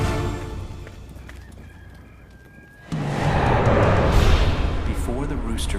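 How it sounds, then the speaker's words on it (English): A rooster crows loudly in a dramatized Bible-story scene of Peter's denial, the call rising abruptly after quieter talk and then holding with a wavering tone over background sound. "Before the rooster crows tomorrow morning, you will deny 3 times that you even know me."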